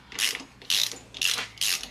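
A ratchet tightens screws into a Harley Fat Bob motorcycle's T-bar handlebar: four quick, close bursts of rapid clicking separated by short pauses, with no other sound.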